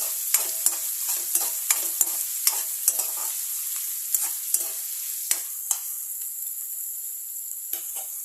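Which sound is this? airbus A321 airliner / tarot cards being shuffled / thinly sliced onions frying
thinly sliced onions frying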